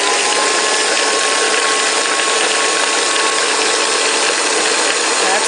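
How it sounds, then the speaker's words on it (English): Bosch blender pulsing bulk frozen avocado pieces with lime juice, a loud, steady, dense grinding whir that holds unbroken from start to finish with no talking. "And I'm going to pulse it."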